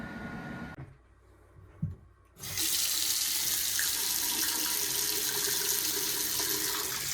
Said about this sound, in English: I'm gonna go and turn on the water, the hot water on every faucet to make sure I flush all the air out